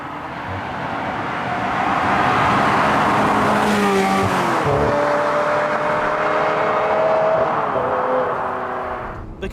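A Ferrari 355 F1 engine revs high, roaring loudly and steadily, climbing and dropping in pitch through gear changes, with a brief tire squeal.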